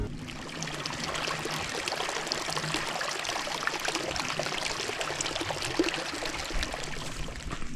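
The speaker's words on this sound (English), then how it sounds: "let me just play some nice soothing water sounds for you so you can enjoy the wonderful creek" A creek flows over its rocky bed in a quiet Utah canyon, a steady close wash of water with a fine constant trickle and splash running the whole time, with no voices.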